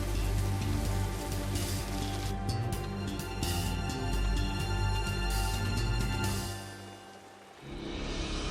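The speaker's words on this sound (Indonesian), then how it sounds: "Duh, pagi hujan segala lagi" Steady morning rain patters densely on surfaces as a constant close hiss with faint mixed tones beneath, then briefly thins out near the end before resuming.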